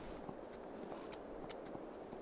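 Faint, regular clip-clop of horse hooves trotting at an even pace in the video game Farming Simulator 22, quiet and somewhat distant.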